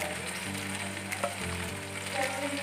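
Turmeric and homemade masala sizzling in hot oil in a frying pan, a continuous close crackle with a brief stir partway through, steady and fairly quiet.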